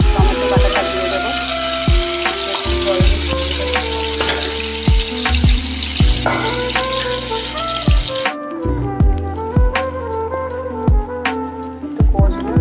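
Ginger and tomato paste fry in hot oil with a loud, steady sizzle close by, broken by regular clanks and scrapes of stirring against the pan.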